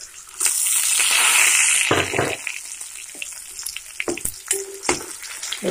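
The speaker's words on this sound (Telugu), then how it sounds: "ఇది కొంచెం బ్రౌన్ కలర్ వచ్చే వరకు ఇలాగే ఫ్రై చేస్తామండి" Tomatoes fry in masala in a pan for stuffed brinjal curry, a loud sizzle that bursts up at first then settles into quieter crackling with a few stirring scrapes.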